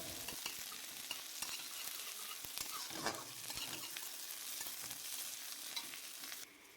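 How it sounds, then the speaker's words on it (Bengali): Onion fries in a pan until reddish, a quiet but steady crackling sizzle with occasional light taps from stirring, cutting off abruptly at the end. "পেঁয়াজটা লাল লাল করে ভেজে নিয়ে আমরা ফুলটা দিয়ে দেব"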